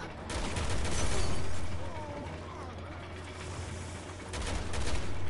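Machine gun fire in the game Resident Evil 6: rapid rattling bursts over a low rumbling game backdrop, swelling and easing, with a faint voice underneath.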